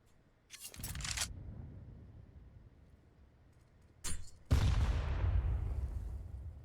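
A grenade going off in a Counter-Strike match on the Vertigo map, heard as two sharp, loud blasts with a rumbling tail, the second one longer and heavier, set against steady in-game ambience.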